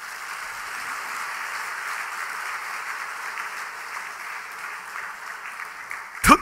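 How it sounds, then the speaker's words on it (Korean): A church congregation applauds during a Sunday worship service: a steady, fairly faint wash of clapping that carries on evenly for several seconds, then cuts off sharply. "박수 한번 하십시다."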